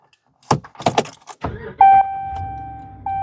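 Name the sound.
ignition key pulled out of 2014 Ram 1500, keys jangling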